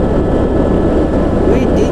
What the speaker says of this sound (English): As the chopper lifted off, we looked at the Kedarnath one last time.